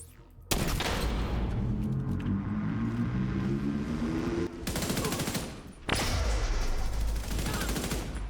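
Gunfire in a video game shooter, dense bursts of rapid automatic fire packed into long sustained volleys with brief breaks between them, loud and close, with a low rumble underneath.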